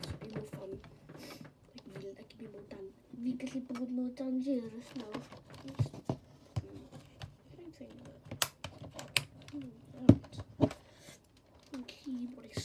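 Computer keyboard keys clatter in quick irregular bursts close to the microphone while a person talks over much of the typing.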